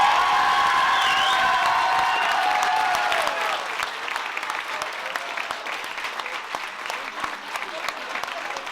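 Audience at a university institute presentation applauds a prize winner, loud sustained clapping that thins out into scattered claps partway through.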